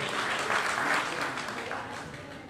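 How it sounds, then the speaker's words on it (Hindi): A crowd at a community gathering in Haridwar claps together in dense, sustained applause that swells early and then gradually tapers off. "एक बार जोरदार तालियां बजाइए।"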